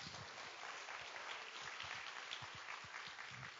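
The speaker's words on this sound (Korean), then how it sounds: "여러분 큰 박수를 부탁드리겠습니다" Audience applause at the 2018 Tech Plus Jeju conference, a steady wash of clapping that is moderately faint and distant, with a few closer low thumps scattered through it and no talking.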